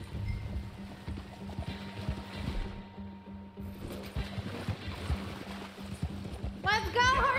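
Horse hooves clip-clopping at a gallop in the video game Red Dead Redemption 2, steady and close beneath game music and ambient sound, with a person's excited cheering near the end.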